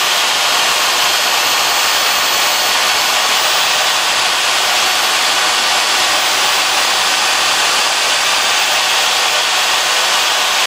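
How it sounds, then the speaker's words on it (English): A belt grinder works on a knife handle in a loud, unbroken abrasive roar. The harsh, broad grinding noise stays steady and close for the whole stretch. "We can just snip them off and then start grinding."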